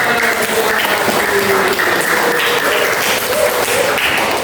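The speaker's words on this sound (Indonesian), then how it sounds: "Tepuk tangan." Loud, dense applause from a group at a school classroom observation session, steady clapping filling the short stretch without a break.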